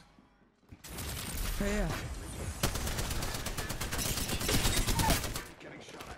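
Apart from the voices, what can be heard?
gunfire in the Apex Legends video game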